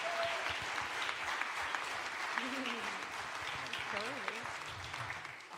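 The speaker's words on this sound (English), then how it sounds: "Give them a round of applause." Audience applauding a band at a country music show, steady continuous clapping with voices talking and calling out over it throughout.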